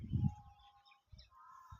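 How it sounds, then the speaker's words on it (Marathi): Birds coming down from the hills in the evening to drink water give faint, thin chirps and a soft low cooing note, sparse and somewhat distant in a quiet outdoor setting. "पाणी प्यायला असे पक्षी डोंगरावरून"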